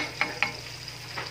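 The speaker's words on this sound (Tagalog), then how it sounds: "Pag ganyan kumukulo na guys, sasabayan mo ng halo." Java rice boiling in a pot over low heat is stirred, giving a few short scraping strokes against a steady low simmering bubble.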